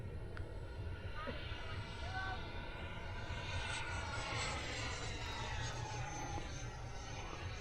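A radio-controlled Blue Angels model airplane on its first flight drones steadily overhead, its motor whine continuous and moderately distant, with an outdoor wind wash throughout.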